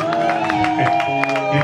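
A wedding congregation at a religious ceremony acclaiming and clapping, rhythmic hand claps and cheering voices over sustained tones of music, dense and close.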